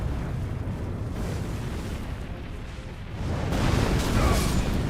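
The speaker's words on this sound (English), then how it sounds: "Explosion jump." Explosion jump attack in the Elden Ring DLC: a deep, rumbling blast that churns for a few seconds, then swells louder and heavier toward the end, with no speech over it.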